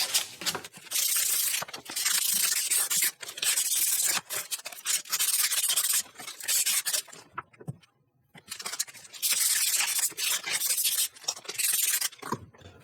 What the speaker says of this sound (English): now I could work around with the sanding paper